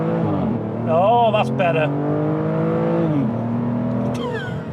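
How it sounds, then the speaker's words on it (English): An Aston Martin DBS V12 launches hard with heavy wheel spin, its engine rising in pitch in loud, sweeping revs through the clip while a person talks over it. "Oh, a lot of wheel spin."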